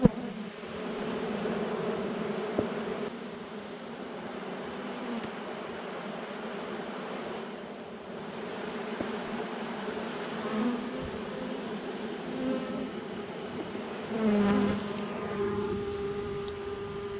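Honeybees in an open, healthy hive give off a dense, continuous buzzing drone with individual bees flying close past the listener. It stays loud and steady throughout with no talk.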